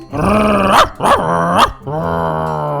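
A dog in Minecraft gives two loud, close, pitched barks followed by a longer drawn-out whine-like bark, sounding alone with no talk.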